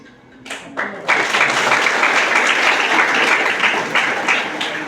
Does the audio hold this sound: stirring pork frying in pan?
no